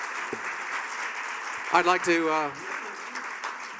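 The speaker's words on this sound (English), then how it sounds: "let's give a big round of applause for all of the candidates here tonight" Audience applause for the candidates at the 2024 Rancho Mirage Chamber of Commerce candidates forum, a steady wash of clapping from a room that continues under a voice beginning to speak.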